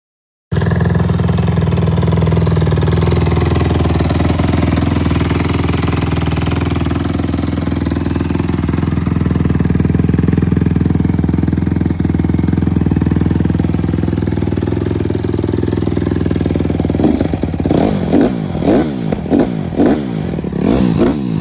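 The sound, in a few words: Honda CRF150R dirt bike engine idling and revving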